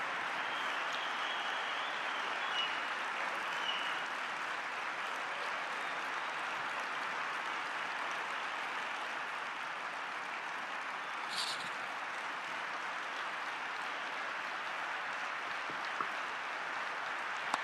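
A large audience applauds at a political speech, a steady, dense wash of clapping that carries on without letup. It sounds distant and fairly faint.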